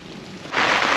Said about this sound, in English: Well, rain's starting to come down a bit now.